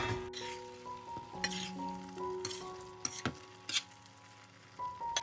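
Pork belly and vermicelli stew bubbling and sizzling in a wok over high heat as the sauce reduces, a constant close frying hiss broken by a few short spatula scrapes and clinks, with no talk.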